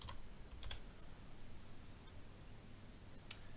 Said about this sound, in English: And we do that with the I, J, K, L keys.